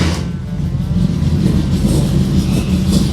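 Car engine running loud and close, a steady low rumble with a slight rise as it revs, no talking over it.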